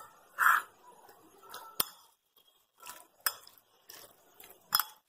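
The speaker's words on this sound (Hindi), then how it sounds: "दही, इन सबको अच्छे से मिक्स कर लेंगे।" A spoon clinks and taps against a bowl in sparse, uneven strikes while paneer is mixed with curd and salt into a marinade, quiet scraping filling the gaps between them.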